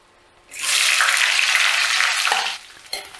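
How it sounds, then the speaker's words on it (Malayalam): Chopped okra lands in hot oil and erupts into a loud, dense sizzle that holds for about two seconds, then drops to a quieter crackle with a brief clink near the end. "വെണ്ടയ്ക്കയുടെ വഴുവഴുപ്പൊന്ന് മാറണയിടം വരെ നമുക്കിതൊന്ന് മൂപ്പിക്കണം"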